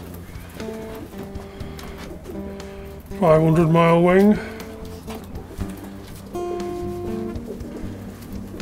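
Young racing pigeons coo in a brief burst of throaty warbling, close by, with someone talking before and after and faint birdy clatter in the background.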